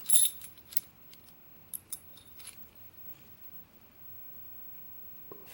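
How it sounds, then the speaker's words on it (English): Steel key blanks jangle and clink in short metallic bursts, a few quick rattles near the start followed by softer, sparser clinks against a quiet background. "We got some blanks here, and I believe these are steel blanks."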